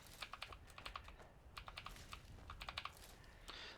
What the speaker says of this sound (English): Sorry if you guys hear my keyboard clicking.